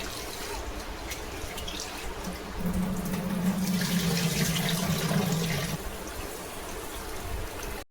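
Water running from a kitchen tap in India, drawn for cooking rice: a steady, close rush of flowing water that swells louder for a few seconds in the middle, then eases back, with no talking.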